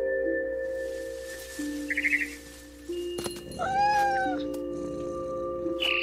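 A cat meows several times in the What Remains of Edith Finch video game, short, fairly clear calls set against steady ambient game tones and a few other electronic sounds.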